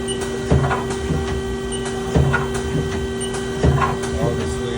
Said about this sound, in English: I can do the tool changer.